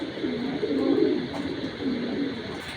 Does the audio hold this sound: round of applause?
no